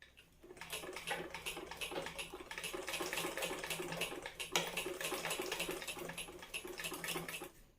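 A foot-pedalled tailoring sewing machine run slowly while stitching a circular shape in cloth, a faint, rapid mechanical needle clatter that starts up and runs steadily throughout.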